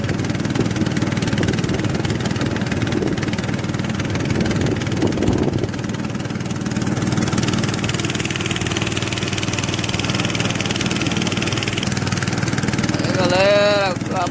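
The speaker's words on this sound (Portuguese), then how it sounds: "É mais na frente aqui eu vou parar o motor para me ajudar" A fishing boat's motor runs steadily at a medium idle-like drone on a windy coastal estuary during net fishing, close and continuous throughout, with someone talking over it.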